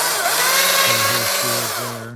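Stihl MSA 220 C battery-powered electric chainsaw cutting rotten hardwood with a slightly dull chain; a loud, steady motor whine close by with the pitch dipping briefly as the chain bites into the wood, with no talk over it.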